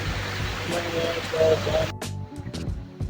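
Water rushes steadily along a forest hiking trail in the Margalla Hills near Islamabad, a broad continuous wash that cuts off abruptly and gives way to quieter sounds with scattered knocks and rustles.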